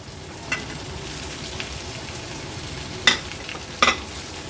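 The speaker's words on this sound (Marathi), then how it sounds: "आता हे फोडी केलेले बटाटे आपण ऍड करणार आहोत." Chopped potatoes fry in a garlic-and-chili tempering for a Maharashtrian potato bhaji, giving a steady close sizzle with two sharp spatula scrapes near the end.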